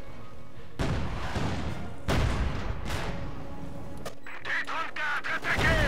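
Cannons fire in the Company of Heroes 2 video game, two heavy booms with long rumbling tails followed by a sharper clattering of battle noise, while voices talk throughout.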